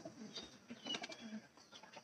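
A pair of pigeons in a coop room coo faintly, with soft repeated murmurs and a light rustle at a distance and no talk.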